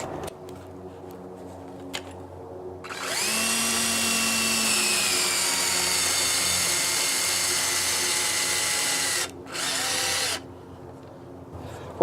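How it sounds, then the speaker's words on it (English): A power drill whines steadily at high speed for several seconds while boring holes into a bushcraft knife kit, briefly stopping and then spinning again in a short burst, close and loud, with no talking. "I can drill now into this directly"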